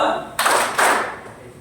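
A classroom of students claps together in a counting game, two sharp group claps about half a second apart, followed by a fading tail and faint background voices.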